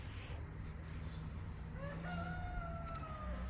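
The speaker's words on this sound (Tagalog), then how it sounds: "Talagang may manok eh." A rooster crows from some distance in Queenstown, Tasmania, Australia, its drawn-out call rising over a steady low rumble of outdoor noise.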